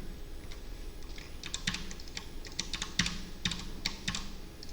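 Computer keyboard typing code, a steady run of close, crisp key clicks in uneven bursts with no voice over it.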